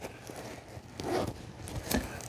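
Zipper on a curved foam lumbar support pillow cover being opened, a few short close scratchy pulls with quiet rustling in between.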